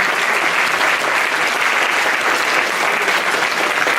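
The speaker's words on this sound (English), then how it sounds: "a round of applause for all of our exhibitors and our sponsors back there" An audience at a Darwin Day event breaks into steady, dense applause, loud and sustained for four seconds with no break.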